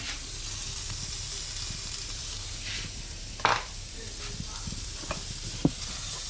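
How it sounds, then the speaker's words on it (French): A chicken escalope sizzles in a hot pan, a steady, fairly loud frying hiss that runs throughout with a few small pops and scrapes, no voices. "L'escalope dans la poêle chaude."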